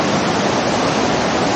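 A waterfall roars close by on the Har Ki Doon trek, a dense, steady hiss of rushing water filling the whole moment, loud and unbroken, with no voices.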